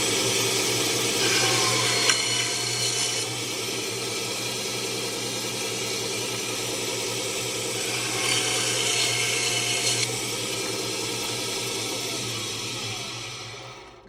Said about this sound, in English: I am using the mini bandsaw to cut mine off